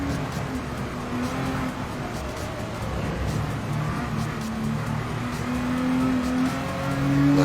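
A race car engine at Spa in a wet-weather racing video game holds a steady droning tone whose pitch shifts as the throttle eases, then builds louder toward the end, with no talking.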